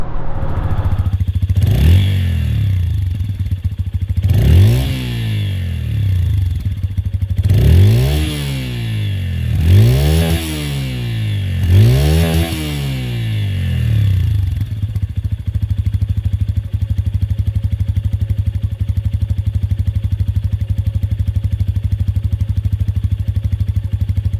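A Euro 5 motorcycle accelerating hard on an open road outside town, its engine note climbing in four or five repeated rising sweeps through the gears before settling into a steady, loud cruising drone.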